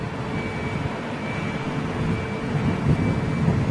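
Kenya-bound airliner departing London Heathrow, its engines a broad, steady low roar at middle distance that swells slightly toward the end, with no talk over it.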